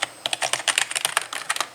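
Rapid, steady keystrokes on a new gaming keyboard, a close and crisp run of clicks with no talking.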